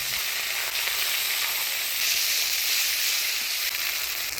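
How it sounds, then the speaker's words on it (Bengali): Spice paste of ground coriander, cumin, ginger and chilli sizzles in hot oil for a Bengali katla fish curry, a steady, loud, dense hiss that holds without pause and swells slightly midway. "এবার দিয়ে দিচ্ছি বাটা মশলা, ধনিয়া, জিরা, আদা, লঙ্কা বাটা"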